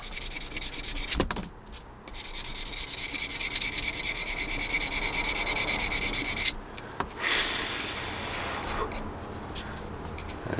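Sanding on a 1/48 scale Tamiya Supermarine Spitfire Mk.I plastic model, close and steady rapid rubbing strokes that stop briefly twice, with a few soft knocks.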